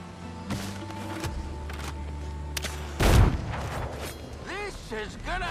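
Gunners firing in the pirate game Windrose: a heavy boom bursts out near the middle amid clanking game effects and music, with a voice talking over the mix.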